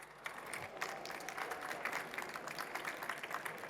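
A conference audience breaks into applause after a panel on AI in health care, a sudden onset of dense, even clapping that holds steady at moderate loudness for a few seconds.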